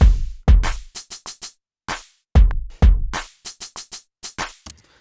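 A programmed drum beat with punchy kick-like hits, tight clicks and a decaying open hi-hat, no beatboxing. The loud, crisp pattern plays twice in a row.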